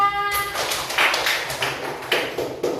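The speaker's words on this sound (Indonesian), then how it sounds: "Tepuk tangan." A classroom of schoolchildren claps in applause, a burst of rapid, overlapping claps with a few louder slaps following a brief tone at the start.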